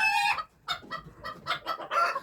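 Frightened hens cluck in short, loud, agitated bursts with rooster calls mixed in, close by in a backyard poultry coop, several birds overlapping in uneven rhythm.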